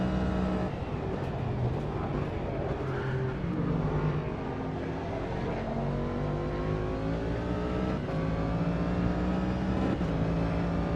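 Race car engines in the Automobilista 2 sim racing game, a continuous close engine drone rising and falling through gear changes and revs, with no talk over it.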